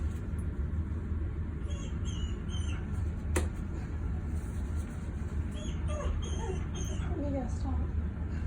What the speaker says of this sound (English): The dog wants to join in.